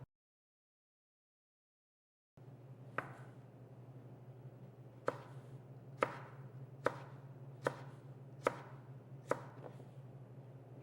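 A knife chops steak into even sticks on a cutting board: about eight crisp, evenly spaced knocks after a short silence, close and clear over a low steady hum.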